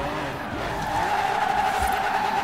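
In a racing game, a 1965 Mustang GT slides through a drift, its tires squealing loudly and continuously over a droning engine, the squeal rising in pitch toward the end.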